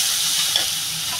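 Chicken pieces hit a hot pan already seasoned with dried red chilli and turmeric, setting off a loud, steady frying sizzle that fills the moment with a bright hiss, with no voices.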